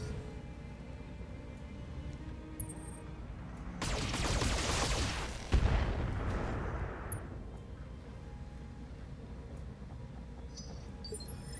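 Mech weapons in the BattleTech game fire in a burst of rumbling, crackling volleys that swell, punch with a sharp blast, then die away over a low mechanical hum.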